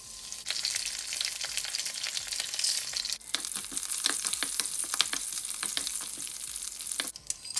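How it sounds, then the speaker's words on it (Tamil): Ponnanganni greens frying in sesame oil in a pan, a loud, steady sizzle close up with crackles and the scrape of stirring, and no one talking. "இது நல்லெண்ணெய் தான் மட்டும் வறக்க போகிறேன்"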